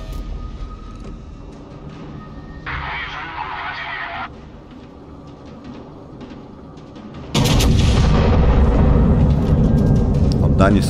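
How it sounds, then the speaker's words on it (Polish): Heavy main guns of the Soviet battleship Lenin fire in a naval battle video game, a deep booming blast near the end over continuous engine rumble, with a honking alert sound earlier and someone talking throughout. "Oddanie strzału tam do tego japońskiego pancernika z drugich dział do Ajoły."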